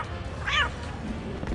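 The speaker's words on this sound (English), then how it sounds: "one of the challenges is to meow 25 times" A single short cat meow from the Injustice: Gods Among Us video game, clear and mid-loud against low background hum, heard alone.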